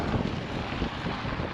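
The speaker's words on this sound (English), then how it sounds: "that wind's something else, man" Strong wind buffets riders on a Royal Enfield Himalayan and a Honda CRF300L along a Utah dirt backway road, producing a steady, loud roar of broadband wind noise against the helmet microphone throughout.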